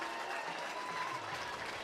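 A baseball crowd applauds a relief pitcher walking in from the bullpen at a Troy college game, a steady wash of clapping and murmur heard from a distance.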